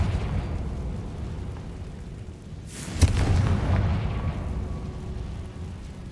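A Confringo fire spell in the Hogwarts Legacy video game, one sharp burst about midway followed by a rumbling explosion that fades over a steady game backdrop.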